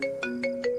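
A phone ringtone chirps in short repeated electronic bursts, about four pulses in quick succession, clear and close with no voices.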